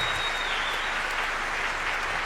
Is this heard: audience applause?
yes